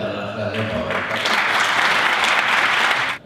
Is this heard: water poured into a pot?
no